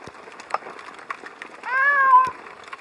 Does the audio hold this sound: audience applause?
no